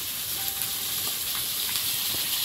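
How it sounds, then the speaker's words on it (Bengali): Fish frying in oil produces a steady, hissing sizzle, moderately loud and unbroken over a few seconds, with no talking. "একদিকে মাছ ভাজা হচ্ছে"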